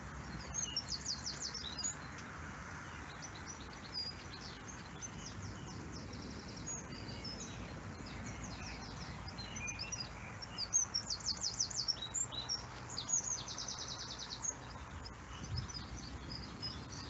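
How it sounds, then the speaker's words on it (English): Birds chirp and twitter in a UK residential garden, light repeated calls coming and going over a quiet, steady outdoor hush, fairly faint and somewhat distant. "So this is a beautiful bird sound."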